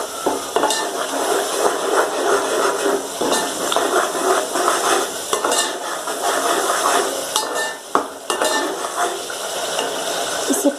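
Spices stirred and fried in oil for a guar bean curry, continuous sizzling with a rhythmic scrape of a spoon against the pan, close and fairly loud, no talking.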